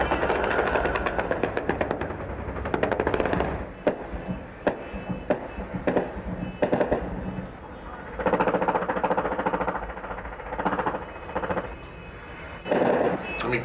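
Rapid bursts of gunfire from multiple shooters in the Syrian uprising, sharp cracks and volleys erupting irregularly in clusters, loud and close, with brief lulls between bursts.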